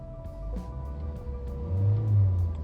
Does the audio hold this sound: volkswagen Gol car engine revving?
yes